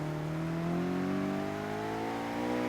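A sports car in a racing video game accelerates hard in third gear, its engine note climbing smoothly and continuously without a break, up close and steady with no talk.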